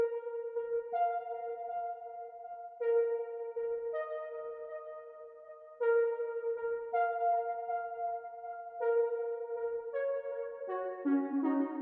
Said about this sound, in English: It's called 66 high lead, and it just gives that nice warped tone